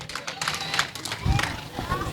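A studio audience at a French-language word game show gives a short burst of applause for a contestant, with scattered clapping and crowd noise mixed with chatter.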